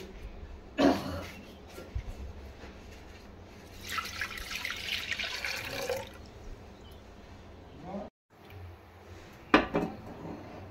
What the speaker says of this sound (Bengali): এই দুধটা আমি একটা কড়াইয়ে নিয়ে নিচ্ছি।